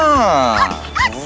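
A small dog yips and barks in short bursts under a voice speaking, close and fairly loud, in a Russian melodrama scene.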